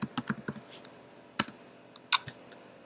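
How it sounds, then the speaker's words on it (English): Quick bursts of keystrokes on a computer keyboard, close and fairly quiet, a handful of clicks, then a pause and a few more taps. "I'm going to go ahead and type in webmail."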